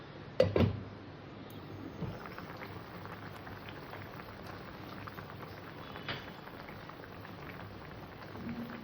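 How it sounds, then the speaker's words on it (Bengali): Mixed vegetables for a Bengali pui shak ghyat simmer in a covered pot, giving a faint, steady, rain-like bubbling hiss after a brief clatter at the start. "সেইভাবে সবজি কটাকে আমি সেদ্ধ করে নেব"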